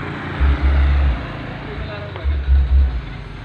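Deep thumping bass pulses from an 8-inch Bazooka Legacy subwoofer in a car, heard from behind the vehicle outside in two bursts over a low steady hum.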